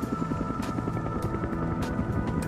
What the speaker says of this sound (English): Rotor noise, which can warn an enemy of a helicopter's approach